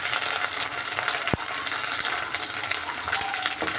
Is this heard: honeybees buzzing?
no